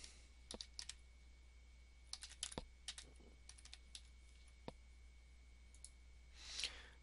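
Keys tapped on a computer keyboard while a search term is entered, as scattered soft clicks in short runs, close but faint, over a low steady hum.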